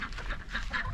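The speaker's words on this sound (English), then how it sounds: "our pekin ducks are here" Pekin ducks on a small homestead farm, a brief burst of nasal quacks repeating in quick succession, fairly close and moderately loud over outdoor background noise.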